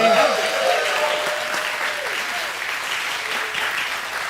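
A church community breaks into loud, sustained applause after reaching its fundraising goal. The clapping is dense and continuous for over four seconds, with a voice talking over it.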